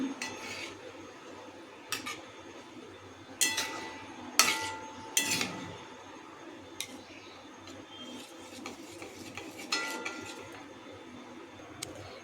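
Urad dal with an asafoetida tempering is stirred in a pot, the spoon clinking sharply against the metal several times over a low background, close and sparse, no voices.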